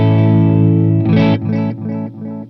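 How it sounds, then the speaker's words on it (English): A Roland Space Echo with the reverb switched off: a loud, sustained buzzy tone cuts off, and its tape echoes repeat several times, each fainter than the last. "I'm going to take the reverb off so you can all hear the echoes by themselves."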